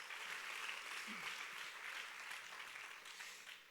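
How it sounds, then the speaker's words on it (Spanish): Young people in a church congregation clapping for Jesus, a steady, fairly soft wash of applause heard from a distance that continues evenly and tapers slightly near the end. "Dale un buen aplauso, joven, a Jesús"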